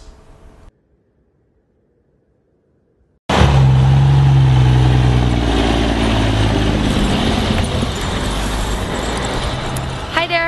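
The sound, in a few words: trucks hauling away logged caribou habitat timber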